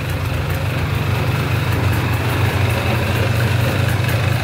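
An old plowing ATV engine runs steadily at close range, a constant low throbbing idle with a rattling, buzzing edge from its broken exhaust mount, loud and unbroken with no talk.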